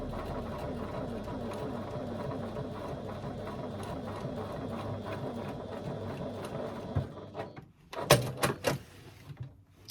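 A Classico Mk2 sewing machine stitches across fabric with a steady, close mechanical whir and rapid needle ticking, then stops and gives way to a few clunks and handling noises at the end.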